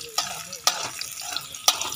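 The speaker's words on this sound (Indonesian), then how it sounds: "Goreng dia sampai dia naik wangi." Onions and other ingredients fry in hot oil as a utensil stirs them, giving a quiet sizzle broken by three sharp scraping clatters against the pan.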